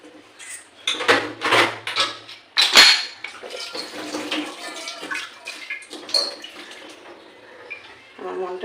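Kitchen pots and utensils are rinsed with water indoors, with clattering metal clinks, splashes and scraping in irregular bursts while someone talks over it.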